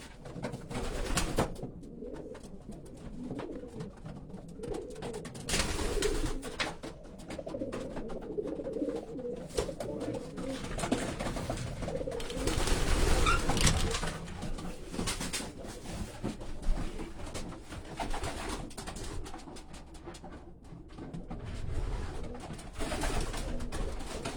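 Racing pigeons in a loft coo steadily throughout, with soft low rolling calls overlapping at close range, broken by wing flaps and scuffling bursts.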